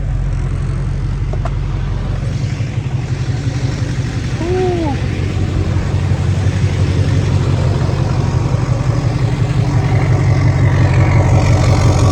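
A heavy Duramax diesel truck engine with a custom hood stack runs steadily nearby with a deep, constant rumble and no changes in pace.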